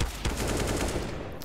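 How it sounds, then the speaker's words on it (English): Desert Eagle pistol fire in a CS:GO professional esports match, several sharp, loud reports in quick succession with no voices over them. "Does hit him with his deagle."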